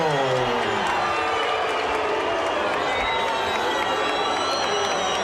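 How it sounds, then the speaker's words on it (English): A boxing arena crowd reacts to a split technical decision in a heavyweight fight with Vladimir Klitschko, a dense, sustained roar of cheers, shouts and scattered applause that stays loud and steady throughout. "some mixed reaction from the crowd here"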